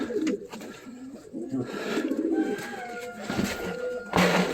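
Pigeons coo in low, throaty bursts nearby in a pigeon loft, with other bird calls and some scraping and shuffling noises in the background.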